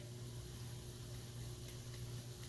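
Vegetable batter bread pieces frying in a pan, four at once over raised heat, give a steady, dense sizzle with low bubbling that holds evenly throughout, close and moderately loud with no talking.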